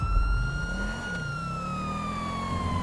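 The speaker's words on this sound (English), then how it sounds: "Oh, I hear your sirens." A police siren wails steadily in the GTA FiveM roleplay game, its tone sliding in a long rising and falling sweep over a low engine rumble, loud and unbroken, with no talk.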